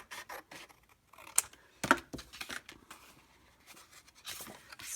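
Scissors snip through paper craft material for a December Daily scrapbook page: a close, quiet run of short scratchy cuts and rustles with brief pauses between them.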